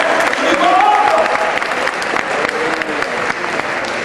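A church congregation applauds loudly and steadily during a sermon, the dense clapping filling the space while a voice carries over it.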